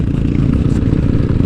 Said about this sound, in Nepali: टुरिङ बाइकलाई अफ रोडमा उफारेको छन्